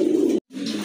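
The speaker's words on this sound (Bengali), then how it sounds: "কবুতর ডাকতেছে" A large pigeon kept for sale coos close by in two throaty phrases split by a brief silence.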